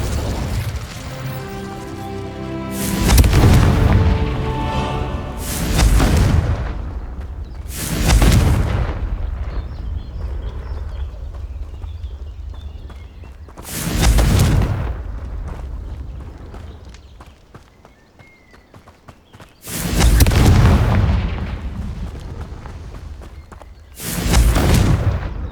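Confringo blasting spells from Hogwarts Legacy explode in a series of loud, booming bursts, about six blasts spaced a few seconds apart, each with a sharp onset and rumbling tail over continuous game ambience.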